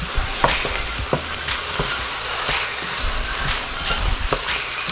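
A flour mixture cooks for cream of mushroom soup, sizzling steadily while a spoon stirs and scrapes the pan in repeated close clicks and scrapes.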